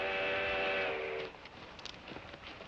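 A steam locomotive whistle blows a loud, sustained multi-tone blast for about a second before cutting off, leaving the rumble and clatter of the train running along the track.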